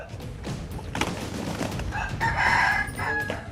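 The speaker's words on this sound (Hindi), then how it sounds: "मुर्गों की फौज लड़ाई के लिए तैयार हो रही है" Fighting roosters being trained for bouts crow and cluck close by, one long crow standing out over steady background noise and scattered fowl calls, with no talking.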